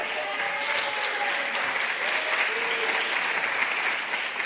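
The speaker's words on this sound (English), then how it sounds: "Give her a round of applause." Steady applause from a crowd, continuous clapping that holds an even level throughout without pause.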